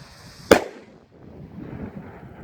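A Dominator Apollo program firework rocket launches with a single sharp crack and burst, loud and close, then fades into a faint lingering rumble.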